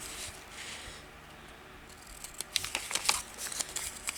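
Scissors snip through paper while envelopes are being made for a journal: a quiet stretch, then a string of soft, close cuts and rustles in uneven rhythm.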